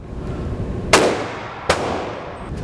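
Two sharp metallic clacks from a civilian AR-15 rifle, its charging handle pulled back and the bolt snapping forward, loud and close, about a second apart in a quiet room, with a fainter click at the end.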